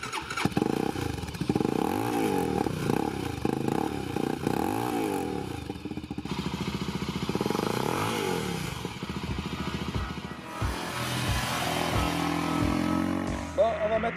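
Motorcycle with a reworked double exhaust, a 25 kW engine, idles with a lumpy burble and then is blipped through several revving bursts, rising and falling close by, ending in a series of sharp throttle pops.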